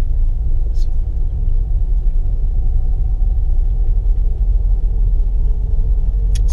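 A car creeps slowly along historic brick-lined streets in Ybor City, its engine and tyres making a steady, heavy low rumble heard from inside the cabin.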